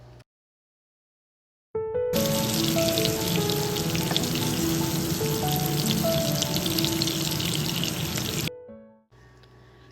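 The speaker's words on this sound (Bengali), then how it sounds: "তেলটা গরম হয়ে গেছে, এর মধ্যে কাঁচকলাগুলো দিয়ে দেব, দিয়ে উল্টে পাল্টে লাল করে ভেজে নেব।" Raw banana slices drop into hot oil and fry with a loud, dense, steady sizzle lasting several seconds after a brief silence, then cut off abruptly, close and with no voices.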